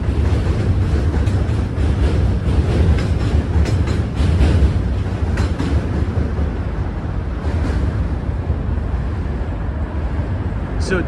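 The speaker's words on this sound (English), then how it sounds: "We'll wait till the train passes." A train rattles past outdoors in Manhattan, New York City, loud and close, with continuous clattering wheel noise and rumble that holds for the whole stretch, with some faint crowd sounds mixed in.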